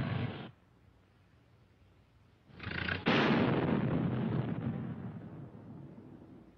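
Anti-tank guns and field artillery fire in a 1942 wartime training film, with a short blast first, then a pause, and then a heavy boom followed by a second one that rumbles and slowly fades.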